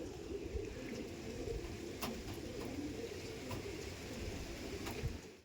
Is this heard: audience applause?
no